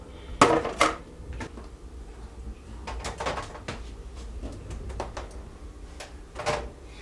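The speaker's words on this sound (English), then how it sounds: "I'm going to pop it in the oven" A casserole dish goes into a 350-degree oven with sharp clanks of metal and glass, a few rattles, then quieter shuffling and a final knock, all fairly close and soft.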